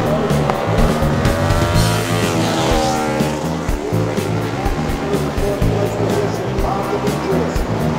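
Racing motorcycles scream past during an AHRMA race at Daytona in 2008, making a loud, continuous roar of engines with rising and falling whines as the bikes pass by one after another.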